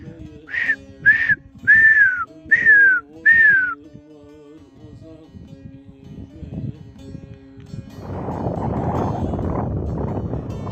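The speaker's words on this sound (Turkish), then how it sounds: "Şahinlerle ıslıkla atıştık." Five short, piercing descending whistles from hawks and a person whistling back ring out in a rhythmic series, followed by a few quiet seconds and then a rush of wind noise.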